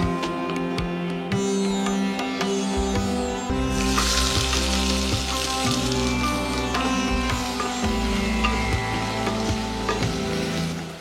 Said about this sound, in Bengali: অল্প একটু সাদা তেল দিন, দিয়ে পেঁয়াজ কিমাকুচি করে রেখেছেন সেই কিমাকুচি পেঁয়াজ হালকা ভেজে তুলুন